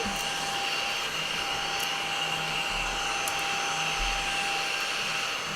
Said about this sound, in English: Clean up with my little magical vacuum